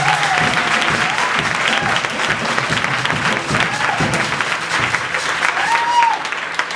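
Church congregation at a women's thanksgiving celebration in Parakou clapping loudly and continuously, a dense crowd applause with some voices and cheers rising through it.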